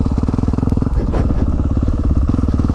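A Yamaha 450 dirt bike climbs a hill, its engine loud and close with a rapid, throbbing exhaust note that rises and shifts as the rider works the throttle.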